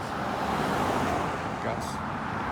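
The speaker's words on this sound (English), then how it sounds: "that's the bus." A city bus moves through road traffic in Vancouver, a steady broadband rumble of engines and tyres filling the whole stretch at moderate distance, with a brief hiss partway through and a voice faintly mixed in.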